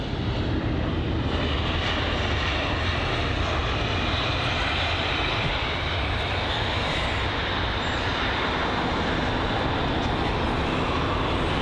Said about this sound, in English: Mergin saying that last American Airlines was the one that went around